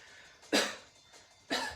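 Two short, close coughs, evenly spaced about a second apart, with quiet room noise between them.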